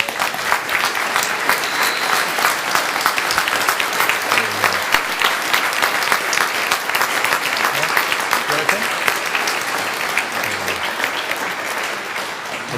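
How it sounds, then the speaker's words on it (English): Sustained, loud audience applause at a plaque unveiling during a summit event, dense even clapping lasting over twelve seconds with faint voices underneath. "A round of applause."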